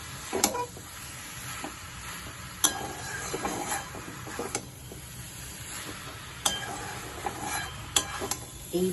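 Chicken sautés with spices in a pan over a gas flame, a soft steady sizzle broken by repeated sharp clinks and scrapes of a spatula stirring against the metal, heard up close.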